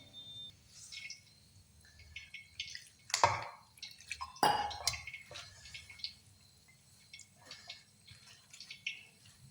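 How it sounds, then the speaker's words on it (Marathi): Water is poured into a cooking mixture in a quiet kitchen: two short splashing gushes stand out, with faint drips and light clinks around them and no talking. "आता थोडंसं पाणी टाकणार आहे."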